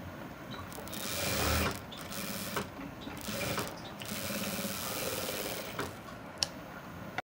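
A sewing machine stitches the side seam of a silk pattu pavadai with a quiet, rapid mechanical whir and clatter in short bursts, with pauses and small clicks between runs. No voices are heard.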